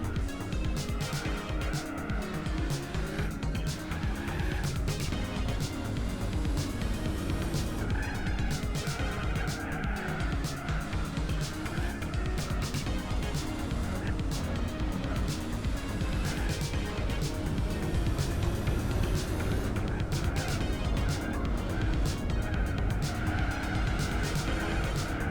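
A Nissan Skyline ER34 in Gran Turismo 4 spins its wheels off the track in fourth gear, its engine droning hard under repeated tire squeal and skidding for a long, dense, unbroken stretch.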